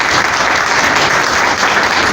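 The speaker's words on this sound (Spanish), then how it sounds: "les pidamos con un aplauso a las panelistas" An audience at an international panel on inclusive education claps for the panelists, a dense, steady round of applause filling the room without pause.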